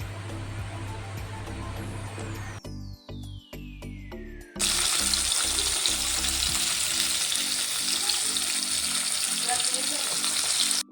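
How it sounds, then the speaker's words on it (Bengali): Pieces of catla fish fry in mustard oil: a loud, steady sizzle takes over partway through, after a quieter stretch of clattering and pan handling. "এখন বাদ বাকি মাছগুলোকে আমি এক এক করে ভেজে নেব তেলের মধ্যে দিয়ে।"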